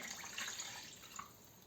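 A glass of water poured into a multicooker over seared pork, a soft, steady watery trickle and splash heard close up, continuing evenly for under two seconds with no talking.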